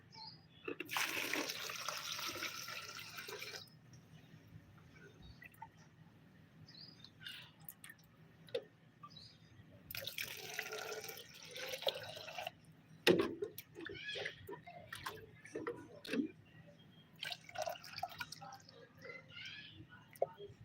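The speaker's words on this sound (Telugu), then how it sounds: "నార్మల్ వాటర్ యాడ్ చేసేస్తున్నాను నేను" Plain water pours into a homemade organic fertilizer mixture in two splashy bursts with trickles and drips between them, heard outdoors with faint birdsong in the background.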